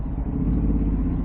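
Road traffic on Quezon Avenue, Quezon City at night, heard from inside a vehicle as a loud, steady low engine and road rumble with no talk.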